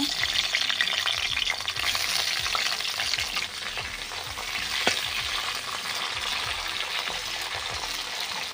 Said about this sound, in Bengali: বড়িটা ভাজা হয়ে গেছে, এবার শিমগুলো ভেজে নেব।